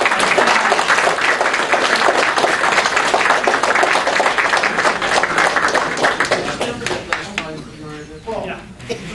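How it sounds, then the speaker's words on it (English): A crowd at a convention closing ceremony applauds with dense continuous clapping and some cheering, tapering off toward the end. "So a round of applause to you for being such awesome."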